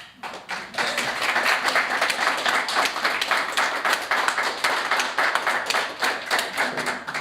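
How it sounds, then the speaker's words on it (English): A modest audience at a funding announcement for child and youth health research in Atlantic Canada claps steadily, with individual hand claps distinct and close, continuing for several seconds. "Yes, please, applause now."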